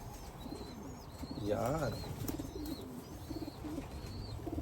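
A blue bar racing pigeon coos in a loft, a soft rolling coo at moderate distance, repeated among faint chirps and a voice speaking now and then.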